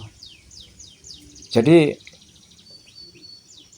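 Faint, quick descending chirps from a mountain ciblek, the caged bird held in training to become a prolific singer, repeat in the background while someone briefly speaks over them partway through.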